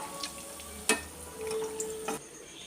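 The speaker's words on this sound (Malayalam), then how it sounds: "ചിക്കൻ വെന്ത് ഏകദേശം ആയി വരുന്നുണ്ട് കുറച്ച് സമയം കൂടെ ഒന്ന് മുരിഞ്ഞോട്ടെ" Chicken pieces frying in oil in a pan, a soft steady sizzle with occasional clicks and stirring knocks, close and quiet without any talk.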